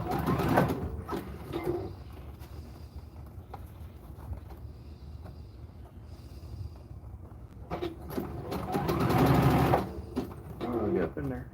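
A sewing machine stitches fabric knee pads in bursts of steady mechanical whirring, loudest near the start and again toward the end, with a person talking over it in between.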